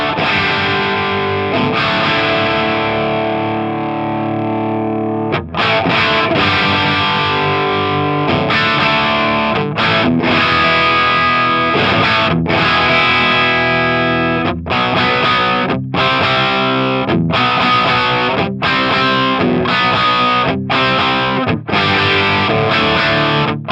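Electric guitar through a Friedman amp on its Plexi channel 1, a long loud crunchy riff of held chords and rhythmic chopped stabs, close and alone.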